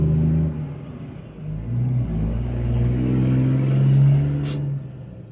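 A car fitted with oversized side-exit exhaust revs loudly in a series of deep, rumbling swells that build and fade, close by, ending with a brief sharp high-pitched noise.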